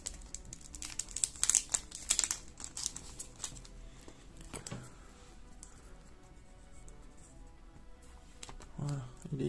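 Close, crinkly plastic rustling and rubbing in irregular bursts as a Yu-Gi-Oh card is slid into a plastic sleeve, with softer handling noises afterward.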